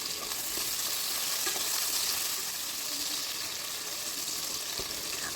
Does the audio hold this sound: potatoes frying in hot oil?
yes